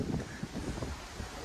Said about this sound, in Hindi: हवा चलने लगी है, क्या पुरवाई झूम रही है